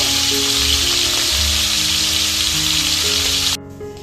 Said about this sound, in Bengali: ভোলা মাছগুলিকে লাল লাল করে ভেজে নেব